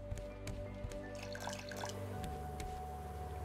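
Liquid pours and drips in the survival game Raft, a steady trickle with scattered droplet plinks over a constant low game hum, no voices.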